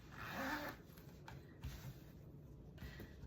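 A trouser fly zipper is drawn closed, giving a short bright rasp near the start. A few faint handling clicks and rustles follow in a quiet room.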